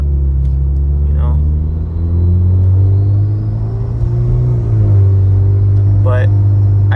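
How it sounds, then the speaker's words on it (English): A Hyundai Genesis Coupe drives on the road, its engine a loud low rumble heard from inside the cabin that rises and settles with the throttle, steady and close throughout. "So let's just do a little bit of driving"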